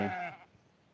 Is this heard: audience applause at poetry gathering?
no